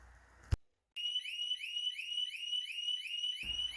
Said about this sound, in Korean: 이 경보기는 약 30초간 울리다가 자동으로 꺼진다는 겁니다